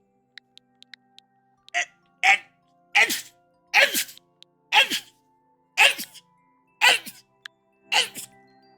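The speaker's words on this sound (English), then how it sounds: "I gotta sneeze." A person repeatedly sneezes and gasps, a run of about eight sharp bursts spaced roughly a second apart, close to the microphone, with little clicks before them.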